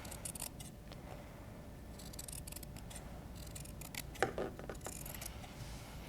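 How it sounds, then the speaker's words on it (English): Scissors snip around a circle of fabric for a no-sew dice bag, giving a run of soft close crisp cuts with a sharper clack near the middle, quiet and without talk. "So I'm gonna go ahead and cut it out."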